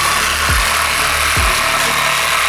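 A power saw cuts through a car's suspension arm during a V6-to-V8 engine swap, a loud, continuous grinding rasp with two deeper thumps partway through.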